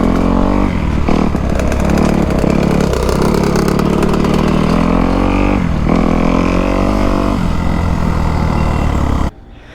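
Two-stroke dirt bike engine on a trail, a KX250F or RM125, runs loud and close with a steady buzzing drone and rising revs, continuous until cutting off abruptly near the end.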